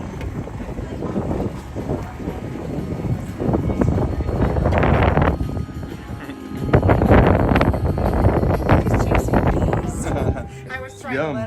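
Strong wind batters the microphone in heavy, uneven gusts of low rumbling buffeting, with a few brief lulls, while a person talks now and then.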